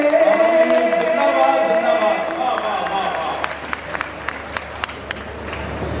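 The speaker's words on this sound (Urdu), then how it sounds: "آپ نے کمزور تالیوں کے ساتھ اور کمزور دعاؤں کے ساتھ سنا." An audience at a mushaira poetry recital in Barabanki gives sparse, scattered claps. They come after a voice fades out, thin and isolated rather than a full round of applause.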